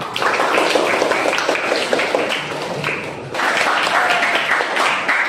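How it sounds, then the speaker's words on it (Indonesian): A crowd claps steadily and loudly, dense applause filling the room with a brief dip before picking back up. "Tepuk tangan untuk kelompok kencur."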